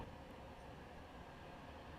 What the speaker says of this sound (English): heading south down Cross Street is a tram on the service to East Didsbury